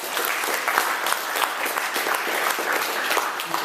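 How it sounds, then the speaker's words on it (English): An audience at a literary reading series gives dense, sustained applause for the event organizer, steady and fairly loud throughout. "I really want to ask for applause for Jeff."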